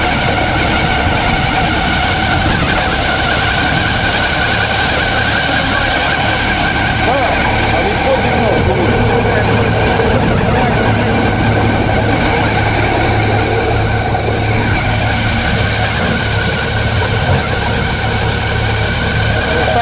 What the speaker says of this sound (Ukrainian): Ось комбайн мороза, друзі. Працює, як має бути.